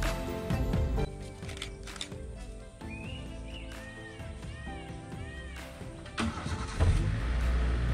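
Safari vehicle driving through the forest of Tadoba Andhari Tiger Reserve, its engine a steady low rumble throughout, with high whistling bird calls rising and falling over it and a brief louder surge near the end.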